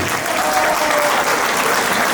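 Wedding guests break into steady, dense applause for the newlyweds, a continuous wash of clapping from a full room.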